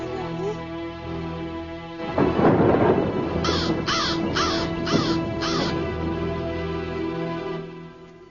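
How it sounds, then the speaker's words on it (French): Crows caw in a quick run of five harsh calls amid a dense, rumbling wash of sound, loud and close with no voices. "et les corbeaux par centaines"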